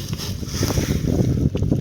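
Strong, gusty wind buffets the microphone outdoors at a deer feeding spot, producing a loud, continuous, rumbling roar with no talk.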